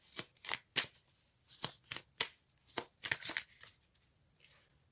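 Tarot cards being shuffled close up, a run of quick riffling bursts in an uneven rhythm, fairly quiet with no voice over it.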